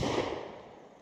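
A single gunshot at an outdoor shooting range: a sharp, loud crack at the very start that rings out and fades over about a second, with no voices.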